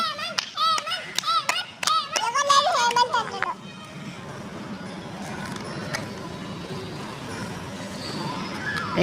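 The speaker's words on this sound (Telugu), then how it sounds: "అరే మీరు పక్కన క్లాప్స్ కొట్టాలరా, ఎంకరేజ్ చేయాలరా" Children clap in a quick burst of sharp, uneven hand claps at an indoor kids' game, with children's voices mixed in; the clapping fades after a few seconds into a softer murmur of voices and room noise.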